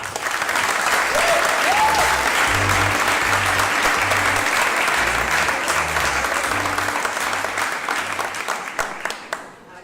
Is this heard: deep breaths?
no